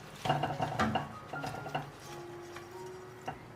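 Fried radish balls tumble into a clay pot of vegetables and mushrooms, a cluster of close knocks and clatters in the first second, then quieter scrapes and a faint steady hum, with one last clink near the end.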